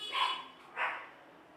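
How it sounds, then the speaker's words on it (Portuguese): A small dog gives two short, close barks indoors, one after another, with quiet room tone between them. "O cachorrinho tá que late ali."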